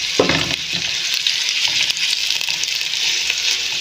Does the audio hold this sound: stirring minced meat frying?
yes